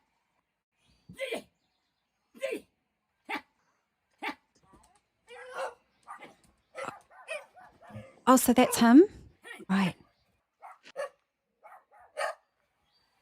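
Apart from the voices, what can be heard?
dogs barking in a played video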